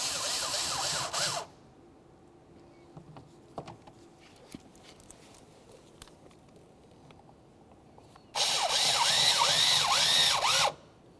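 Power tool driving a 5.5mm socket onto lower mounting bolts of a door lock actuator in a 2001-2005 Ford Explorer Sport Trac door, two loud whirring bursts at start and end with quiet clicks between.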